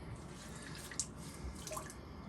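Water runs out of a wet washcloth as it is squeezed, a soft steady trickle with one small splash partway through, quiet and close.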